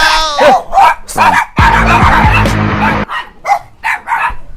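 A dog barks loudly and repeatedly up close, mixed with yelps and a burst of rough, noisy commotion.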